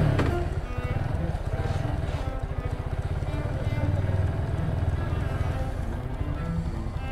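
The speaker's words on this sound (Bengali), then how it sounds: "দিয়ে একটু বাইকের ইঞ্জিনটা একটু গরম করে" A motorcycle engine idling while warming up after a trip back from Sajek, a close, steady low-pitched rhythmic throb that holds even for the whole stretch.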